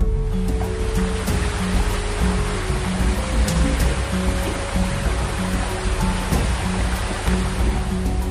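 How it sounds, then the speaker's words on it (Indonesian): Water flowing in a forest river with a strong current, a steady, dense broadband rush that stays loud and continuous throughout, with no voices. "suara air sudah terdengar. Jadi sekarang kita coba sisir dulu bagian sungainya"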